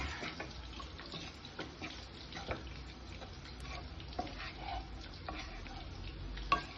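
Paneer fried rice frying in a pan, a steady soft sizzle with scraping stirs and occasional clinks, fairly quiet and close.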